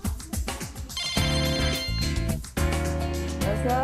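A telephone rings with a loud, repeating electronic melodic ringtone, steady and close in a home where a homemaker is watching TV.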